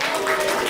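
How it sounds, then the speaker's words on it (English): An audience applauds at a Muslim Writers Collective iftar gathering, giving a brief, dense burst of clapping that fills the room. "Round of applause. Make some noise."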